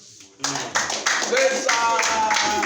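A counseling class at the FCT Rehab breaks into clapping after a brief moment of talk, with hands coming in together and then sustaining a steady, fairly close patter of claps while voices carry on beneath.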